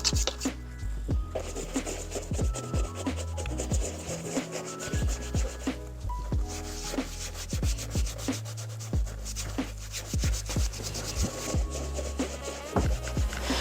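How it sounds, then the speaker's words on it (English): Brisk scrubbing of a brush working saddle soap into the leather of old 1980s Grenson boots, a close, continuous rhythmic rasping with repeated quick strokes throughout. "We're just going to brush this into all the leather there."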